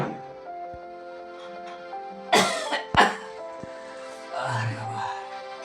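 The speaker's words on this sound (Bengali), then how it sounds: "কাশিটা বেড়েছে আমার" Two sharp, loud coughs close to the microphone, with a quieter throat-clearing rasp afterward, over a steady background hum.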